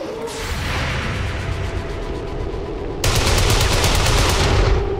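Automatic gunfire from the turn-based strategy video game XCOM 2, with a continuous rattle of rapid shots that jumps louder and denser about three seconds in, heard alone with no talking.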